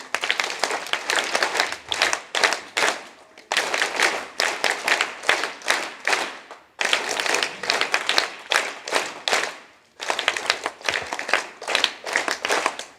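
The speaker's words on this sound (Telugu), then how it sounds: "చేసిన ధ్యానానికి ఒకసారి గట్టిగా క్లాప్స్ కొడదాం." Schoolboys at a tribal school applaud after a meditation session, several bursts of brisk, crowded clapping separated by short pauses, fairly close and with no talking over it.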